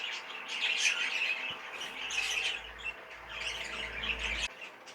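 Many birds chirp and call at once in an aviary, a busy, continuous chatter of high tweets and squawks with a low hum underneath.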